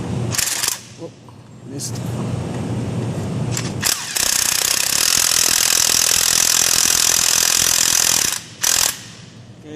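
An impact gun on a socket turns the drive belt tensioner bolt clockwise on a Nissan 3.5 front-wheel-drive engine. It fires a few short bursts, then one long, loud, sustained rattle of about four seconds, with a brief spoken remark early on.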